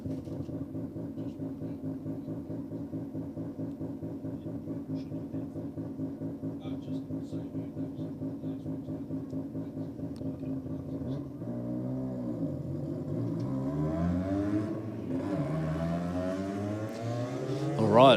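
Rotary-engined Mazda drag car accelerating in a roll race, a buzzing engine held at steady pitch before climbing and wavering higher near the end, with a commentator talking over it.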